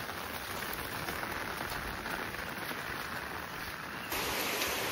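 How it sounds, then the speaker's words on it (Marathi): Rain pours steadily over a village, a dense even wash of drops drumming on surfaces up close, growing slightly heavier in the final second. "मित्रांनो पाऊस पडतोय गावाला."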